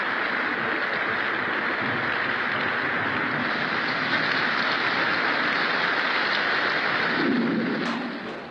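Steady, dense rainfall close by, a continuous hiss of drops on surfaces that holds evenly for the whole stretch before tailing off slightly at the end.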